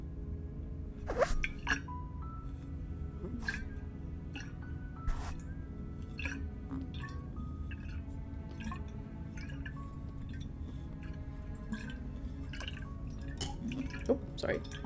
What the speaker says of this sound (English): Water flowing.